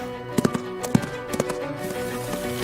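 Hollow clip-clop taps from cloth-stuffed plungers imitating horse hooves, in an uneven trotting rhythm, a few sharp knocks in quick pairs over a faint background hum.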